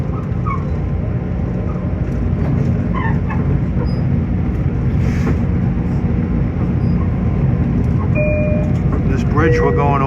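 Long Island Rail Road train running from Penn Station toward Ronkonkoma, a continuous loud rumble of wheels and rails from behind the cab, with someone talking over it and brief squeals near the end.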